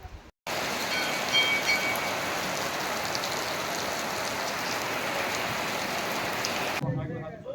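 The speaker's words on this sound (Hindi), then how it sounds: "बारिश तेज हो रही है, तेज हो रही है" Heavy rain pours down steadily on a mountainside near the Tungnath shrine, a dense, loud, continuous hiss that starts abruptly and cuts off near the end.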